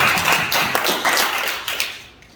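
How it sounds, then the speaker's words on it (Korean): Church congregation applauding, a brief run of close, dense hand claps that fades out over about two seconds. "우리 하나님 아버지께 다시 한번 감사와 영광의 박수를"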